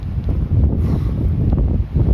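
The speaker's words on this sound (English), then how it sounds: "It's a bit windy up here." Gusty wind buffets the microphone on an exposed clifftop, a steady loud low rumble with surging gusts throughout and no voices.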